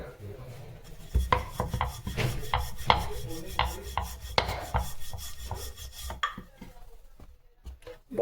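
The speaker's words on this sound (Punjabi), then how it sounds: "ਦੇਖੋ ਹੁਣ ਆਪਾਂ ਬੇਲਦੇ ਆਂ" A rolling pin works oats paratha dough on a board with repeated rhythmic rubbing and light knocking strokes, fairly close and moderate in loudness, slowing and fading near the end.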